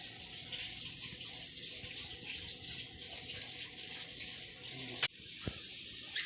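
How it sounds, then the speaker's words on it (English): Tap water runs steadily into a sink while hands are washed beneath it, a soft continuous gush with a sharp clatter near the end. "I'm gonna go wash my hands real quick"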